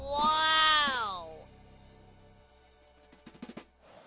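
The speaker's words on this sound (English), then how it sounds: "Peacock bird." A peacock gives a loud, drawn-out wailing call lasting about a second, clear and close, followed by quiet and a few faint clicks.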